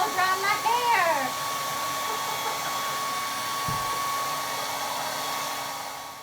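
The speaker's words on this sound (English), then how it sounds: "I'm videoing myself blow drying my hair." A hair dryer blowing hair dry at home runs as a steady, loud whir held close throughout, with a brief burst of a person's voice at the start.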